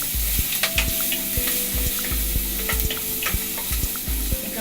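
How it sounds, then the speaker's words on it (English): Garlic and onions sizzle and fry in a pot of oil, with repeated scrapes and knocks of a spoon stirring them, a steady close sizzle with irregular stirring clatter. "Now in the same pot, I will add my garlic and onions. Give that a good stir."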